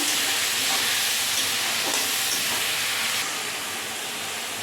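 Paste of ginger, poppy seed and green chilli stir-fried in hot oil in a pan, giving a loud, continuous broadband sizzling hiss that softens slightly toward the end.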